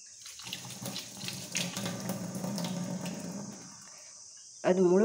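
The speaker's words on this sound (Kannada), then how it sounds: "ಅದು ಮುಳುಗುವಷ್ಟು ನೀರು ಹಾಕ್ಕೊಂಡು" Water pours into a mixer jar over cooked leftover rice in a home kitchen, a steady splashing stream lasting about four seconds before cutting off, followed by a brief clatter.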